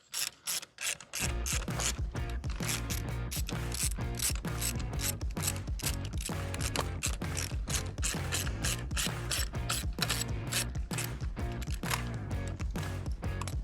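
A ratchet wrench works loose the bolts on an R32 Skyline seat, its rapid, even clicking running continuously at close range after a brief quiet start.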